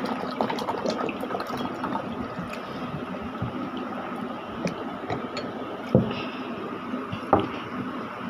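Plain drinking water is poured from a container into a glass in a steady, soft stream, with a couple of sharp clinks near the end.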